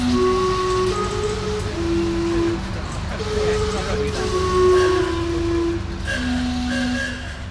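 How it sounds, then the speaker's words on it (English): The steam clock in Gastown, Vancouver, sounds its whistle chimes, several sustained tonal notes shifting in pitch over a hissing background, with people talking nearby in a busy street. "a stop in Gastown isn't without seeing and hearing the steam clock"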